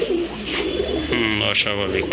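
A domestic pigeon held among birds for sale coos softly and close in a brief low burble, while someone talks over it.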